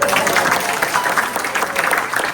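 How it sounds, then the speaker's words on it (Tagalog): An audience at a church healing service claps loudly and steadily throughout, a dense even applause close to the microphone. "malakas ang palakpak sa iyo."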